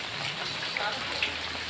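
Rain falls steadily during a rainy-season flood in Desa Dadap, Juntinyuat, a constant hiss with scattered drop impacts, while people talk over it.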